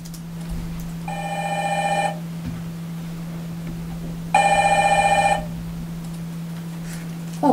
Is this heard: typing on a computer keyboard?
no